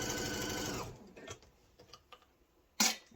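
Sewing machine stitching a 3/8 inch seam along the bottom hem of a cotton kitchen-print apron, a steady fast whir of stitches for about a second, then quiet fabric handling with faint clicks and a brief loud rustle near the end.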